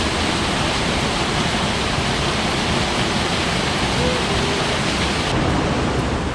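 A river flowing across a hiking trail near Curug Cikawah waterfall in Bogor gives off a steady, dense rush of water, loud and close, with no break throughout.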